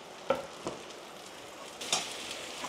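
Onions sautéing in a pan for a fish curry, a faint steady sizzle broken by a few soft stirring scrapes, close up with no talking.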